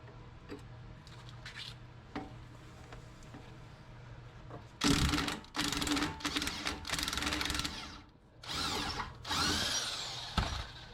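A power tool, likely an impact-style driver, spins off the lower shock mount bolts on a 2011 Chevrolet Suburban during a 2.5-inch leveling kit install. Several close, loud buzzing and rattling bursts follow a quiet stretch of faint shop clinks.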